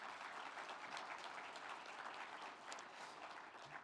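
A symposium audience applauds its supporters at the ROFW 2022 gathering with an even, continuous wash of clapping. It sounds quiet and somewhat distant, with no speech over it.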